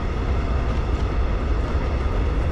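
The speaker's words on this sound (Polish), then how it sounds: "O, pociąg pojechał." A train rumbles past at moderate distance, a steady low broadband roar with no speech over it.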